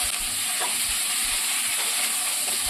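Ivy gourd pieces fry in hot oil while being stirred, giving a steady, loud sizzle with soft scraping stir strokes throughout, no voices.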